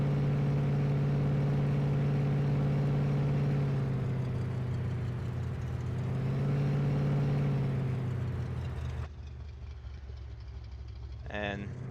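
A modded car engine in Farming Simulator 19 idles with a steady, throaty, low rumbling drone, holding fairly constant before dropping off near the end.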